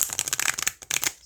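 Schiffer Red Feather tarot cards with good cardstock being shuffled by hand, quick close riffling flutters in two bursts separated by a short pause.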